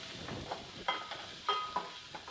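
Ground spices sizzle in a pan over medium-low heat, a quiet crackle broken by several soft scraping stirs, close and faint.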